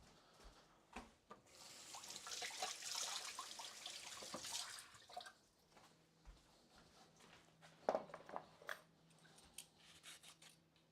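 Tap water runs and splashes in a kitchen sink while food is rinsed under it, a soft steady rush that swells and fades, with faint clatters and handling noises around it.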